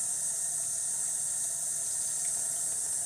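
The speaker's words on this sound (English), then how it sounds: "go to one of your water supplies, and then turn the sink on," A sink tap runs, a steady, even hiss of water pouring from the faucet without pause, moderately loud and alone.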